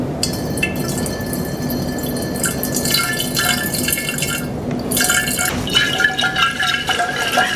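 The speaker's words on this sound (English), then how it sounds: "I'm gonna put my 6 ounces of water straight into this jar and kind of swirl it around" Six ounces of water poured straight into a glass jar holding leftover vanilla beans, a loud close steady splashing fill with bubbling and dripping that shifts in pitch, no speech.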